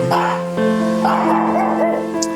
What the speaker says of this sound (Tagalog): Mga aso ang kasama.